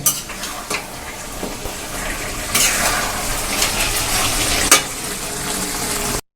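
Cabbage with fish head frying in a pan, stirred steadily with a spatula: continuous close sizzling with scraping and clinking strokes against the pan, no voices.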